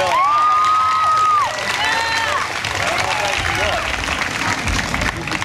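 Crowd applause with some cheering at a state police special operations demonstration, loud and sustained, while a voice or whistle-like tone rises briefly over it near the start.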